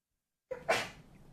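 A single sudden sneeze, close and sharp, breaking a short silence and fading quickly.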